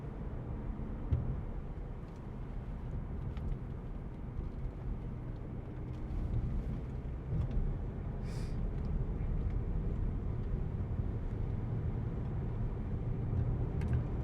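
An Audi A6 2.0 TDI ultra saloon from 2017 with an S tronic gearbox climbs a hill, its diesel engine a low, steady rumble heard from inside the cabin, holding one gear without a shift.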